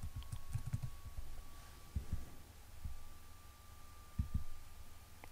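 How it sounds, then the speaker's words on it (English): Keys on a computer keyboard are tapped in a few short, quiet bursts against a low steady hum, with pauses between the clusters of keystrokes as a word is entered. "I'll type in honeycomb."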